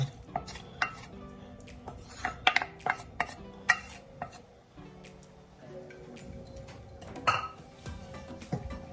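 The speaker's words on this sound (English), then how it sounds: "I am going to give this a stir." Stirring fried seasoning into coconut milk in a pot for Jamaican tun cornmeal, with a spoon scraping and clinking against the pot in irregular taps and scrapes, fairly close and quiet.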